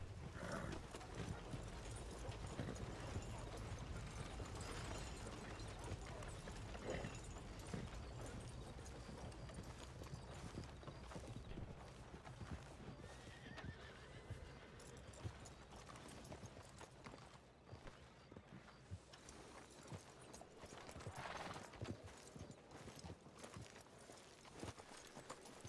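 Horse hooves in a Wild West video game clip-clop steadily in a walking rhythm for the whole stretch, fairly close, with faint background noise and occasional other sounds.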